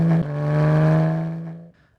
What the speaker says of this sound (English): A car driving from left to right.